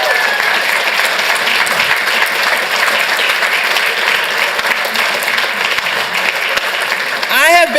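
Steady, fairly loud applause from the audience at a city council meeting, continuous clapping from many hands throughout, with a voice briefly emerging at the very end.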